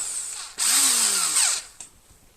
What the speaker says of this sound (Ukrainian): А тепер Розсверлим більшим сверлом.